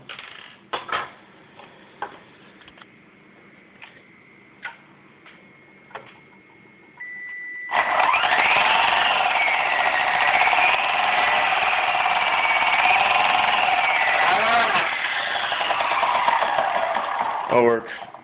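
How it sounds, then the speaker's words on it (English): A Walker 4F180 Apache RC helicopter spins up, its main gear with stripped teeth grinding loudly in a continuous harsh whine, after a stretch of quieter clicks and ticks. "That grinding you hear is from my main gear."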